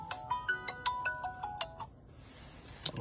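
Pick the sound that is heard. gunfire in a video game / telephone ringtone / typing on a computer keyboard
telephone ringtone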